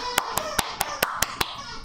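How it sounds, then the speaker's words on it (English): Someone claps for Josh during a live baseball stream, Brewers vs Dodgers, about eight evenly spaced, crisp claps close to the microphone over a low background. "And give him applause."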